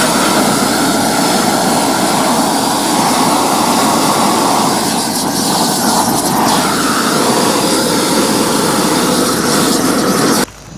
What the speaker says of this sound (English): All right, so I got the torch on